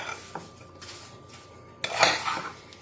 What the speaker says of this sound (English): So I'm just going to stir this up.